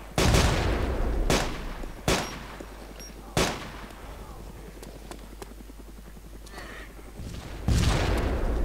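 Gunfire in the survival video game DayZ, a handful of sharp shots spaced a second or so apart over a steady low rumble, with muffled voices under the bursts.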